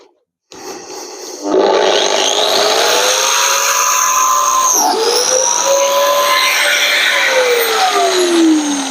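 A biscuit joiner cuts a slot in a wooden board. Its motor starts up and runs as a loud, steady whine with shifting tones, with a brief dip midway as the blade bites into the wood.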